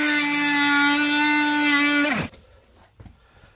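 A Bosch oscillating multitool blade buzzes into oak with a loud, steady high-pitched whine that drops sharply and stops after about two seconds, followed by faint handling noise.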